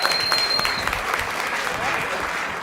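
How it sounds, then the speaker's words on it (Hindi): A crowd claps at a Hindi kavi sammelan poetry recital, a brief, even burst of applause that stays steady and fairly loud for a few seconds. "तालियां बजाया करो।"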